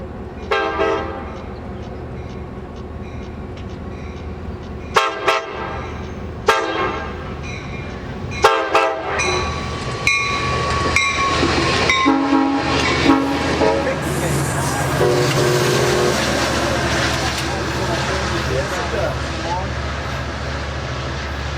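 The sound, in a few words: Amtrak passenger train passing, horn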